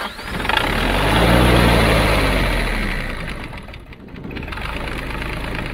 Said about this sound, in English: Then you just kind of crank the engine.